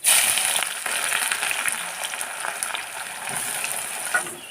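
Onions dropped into hot oil with cumin seeds, a sharp burst of sizzling at the start that settles into steady close crackling and spitting.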